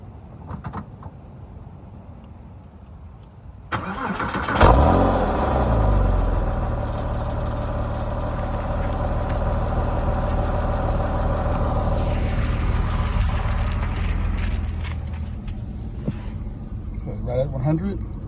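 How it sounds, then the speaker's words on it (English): Porsche 997 flat-six cold start: a sharp catch near five seconds, then a steady high idle drones on loudly with a faint ticking texture, easing slightly toward the end. "997 cold start video."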